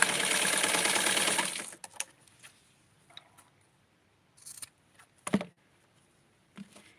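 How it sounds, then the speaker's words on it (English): A sewing machine stitching doll clothes, a dense close buzz of rapid stitching for under two seconds, then quiet with scattered clicks and handling of the fabric, no voices. "I'm going to sew this again because I didn't double secure the tip or the edge."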